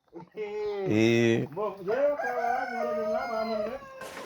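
A rooster lets out a loud, drawn-out crow close by, while hens cluck around it on a small farm.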